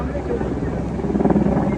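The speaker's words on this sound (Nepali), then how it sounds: "अब हेलिकप्टर पनि आइसकेको छ है।" The low, pulsing rumble of a helicopter holds steady throughout, with wind buffeting the microphone.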